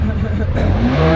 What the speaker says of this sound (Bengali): আর এখন সবার বাইক এখন কোল্ড স্টার্ট হচ্ছে।